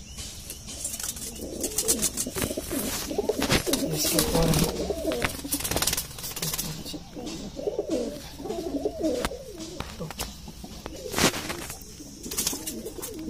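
Several high-flying Indian pigeons, including a red-and-grey bird, coo repeatedly in throaty bursts close by, with sharp flapping and rustling and someone speaking briefly.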